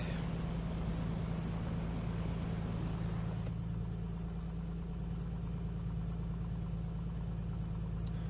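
An A2A Comanche 250 light aircraft engine in Microsoft Flight Simulator idles just after start, giving a steady, even low drone that runs unbroken throughout, with the brighter hiss above it dropping away partway through.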